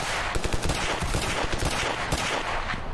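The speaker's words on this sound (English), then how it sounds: "they could have shot behind me." Rapid gunfire in the Ravenfield video game, with dense bursts of automatic shots and scattered single cracks overlapping continuously at loud, close range.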